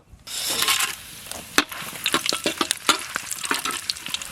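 Bay leaf, cinnamon, cardamom and cloves frying in hot mustard oil, a loud crackling sizzle with sharp pops and spits throughout.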